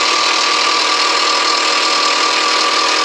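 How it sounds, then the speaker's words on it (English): A power drill bores a hole in the steel cross member of a Dodge truck, a loud, steady, high-pitched grinding whine that runs unbroken with no pauses. "Now we need to drill a hole so we can bolt it to this cross member"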